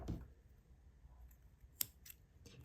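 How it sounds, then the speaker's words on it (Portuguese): Scissors snip through crochet yarn close by, a couple of quick sharp cuts in a quiet room after a soft handling rustle. "vou cortar o fio, cortar essa sobrinha"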